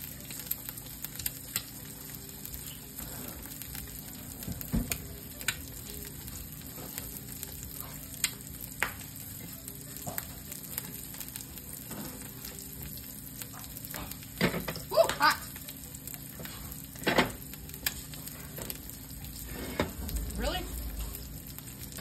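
An egg fries in a pan on a stove, cooked closer to an omelet. A soft, steady sizzle runs throughout, broken by scattered light ticks and a few louder scrapes.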